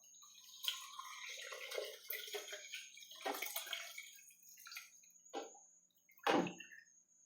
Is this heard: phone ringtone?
no